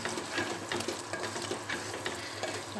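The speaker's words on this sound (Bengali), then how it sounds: "মশলাটার মধ্যে আমি লাউটা দিয়ে দেব, দিয়ে এটা ভালো করে কষায় নেব" Bottle gourd stir-frying in masala in a pan, a steady close sizzle with soft scraping stirs throughout, no voices.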